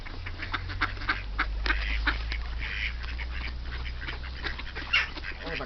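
A flock of ducks being fed in Rapla keeps up a continuous chorus of close, overlapping quacks over a low steady rumble, with a louder burst near the end.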